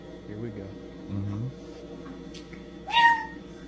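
A man imitates a cat meowing, with two low, drawn-out vocal meows followed by a sharper, higher-pitched meow-like squeal, close and fairly loud.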